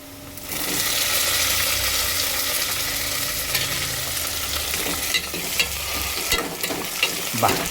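Tomato pieces dropped into hot oil with onions set off a loud, steady sizzle and frying hiss, later joined by a few clinks and scraping stirs.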